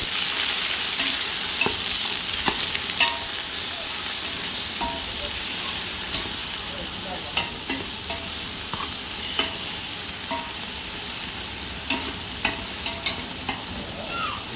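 Three hundred grams of tomatoes fry in a pot for mutton biryani, a constant close sizzle broken by repeated clicks and scrapes of stirring.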